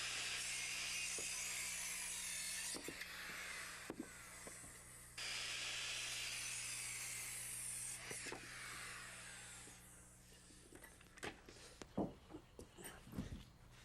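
A circular saw set at 18.5 degrees cutting wooden studs and cripples, a sustained loud hissing whine through the wood for several seconds, a short drop, then another cut, ending in knocks and clatter as pieces are handled.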